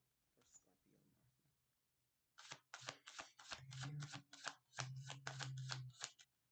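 Tarot cards shuffled and laid out one after another on a table during a reading, a quick run of close, soft crisp card snaps and slides, with faint murmured speech at the start.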